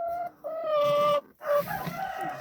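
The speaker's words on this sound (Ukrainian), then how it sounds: "Отака фавероль у нас. Бородатенька. гарна курочка" A bearded Faverolles hen gives drawn-out clucks and cackles close by, in two main bursts separated by a short gap.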